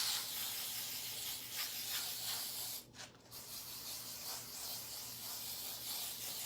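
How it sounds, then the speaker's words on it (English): Spray adhesive hisses steadily from an aerosol can onto a Dollar Tree pumpkin craft, a close, continuous rushing spray broken by one brief pause midway. "Spray that spray adhesive on there"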